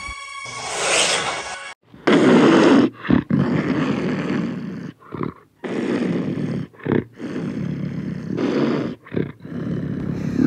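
A loud, drawn-out panther roar rises and falls in several bursts, with short gaps between them, close and dominant throughout.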